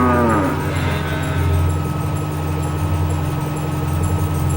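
Cattle in the Australian Outback let out a loud, drawn-out moo near the start. A steady low engine drone continues underneath throughout.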